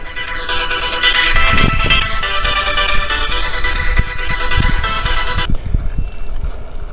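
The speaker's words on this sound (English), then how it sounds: "I have a phone call coming in." An incoming call sets off a phone ringtone that rings loudly and steadily for several seconds, then cuts off abruptly, leaving faint background noise.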